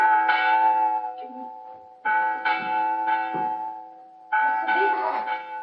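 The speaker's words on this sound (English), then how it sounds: "Ring the bell!" An alarm bell rings in a Macbeth film, heavy clanging peals with long ringing tones struck in three separate bursts, loud and resonant, with a voice shouting faintly between strokes.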